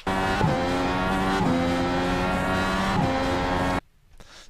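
An Indycar's high-pitched engine screams close and loud at Watkins Glen in iRacing, revs climbing with brief tyre squeal, then cutting off abruptly near the end.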